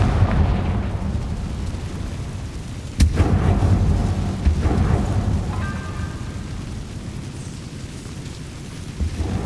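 A Confringo fire spell blasts in the Hogwarts Legacy video game, a loud sudden boom that rolls into a long rumbling, crackling tail with a heavy low-end roar.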